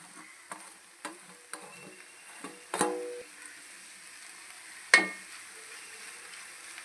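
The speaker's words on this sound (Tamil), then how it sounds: "போட்டு நல்லா வதக்கணும்." Okra and coconut sautéed in a pan make a faint, quiet sizzle broken by a few sharp spatula clinks against the pan, one louder knock near the end.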